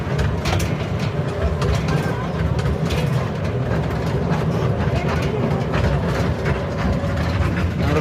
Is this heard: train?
yes